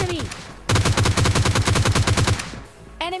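Rapid automatic gunfire from the mobile shooter PUBG Lite, a loud burst of about twenty evenly spaced shots lasting roughly two seconds, with brief game sound effects before and after.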